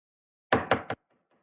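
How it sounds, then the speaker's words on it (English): Three firm knocks on a wooden door, the first two evenly spaced and the third quicker, loud and close, followed by a faint rustle. "he knocked on the door."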